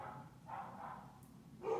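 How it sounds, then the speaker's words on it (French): A dog barks faintly in the background of an indoor room, with a few soft, distant barks spread over a low, steady hum. "Si vous avez entendu un chien aboyer derrière, c'est le mien."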